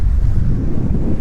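Strong wind roars across a boat trip near an island in the Philippines under stormy weather, a loud low continuous rush with gusting swells.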